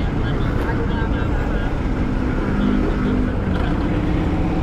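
A truck grinds along a congested road in Imus, Cavite, its steady low engine rumble heard from a nearby motorcycle and mixed with continuous traffic noise.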